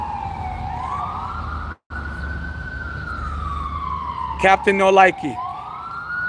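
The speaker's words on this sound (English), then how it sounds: "the ambulance is working, helicopters flying by" An ambulance siren wails past with a slow rising and falling tone, loud and steady, with a brief dropout partway through; someone speaks briefly over it near the end.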